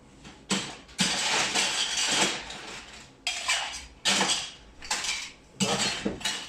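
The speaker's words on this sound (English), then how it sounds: "Let's add some ice to it and start shaking." Ice cubes clattering into a metal cocktail shaker while mixing a Jungle Bird, a series of loud, sharp rattling bursts with short pauses, close up and with no talking.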